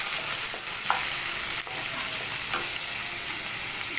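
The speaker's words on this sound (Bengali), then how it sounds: "পেঁয়াজগুলো পড়ে গেছিলো বলে তাড়াতাড়ি আমি জল দিয়ে দিলাম, দিয়ে আদা রসুনটা দিয়ে দিলাম বাটা।" Onions frying with ginger-garlic paste and a splash of water in a pan for a soybean and vegetable curry, giving a steady, loud, dense sizzle throughout with a few brief scraping stirs.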